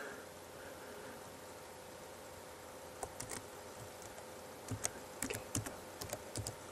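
Computer keyboard keys tapped while entering a project name into video editing software, a few scattered bursts of clicks over a steady background hiss, close and fairly quiet.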